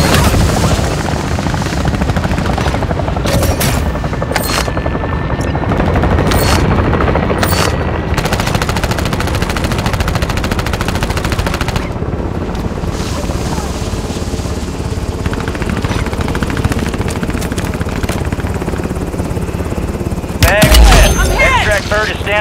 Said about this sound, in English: extract helo is inbound now.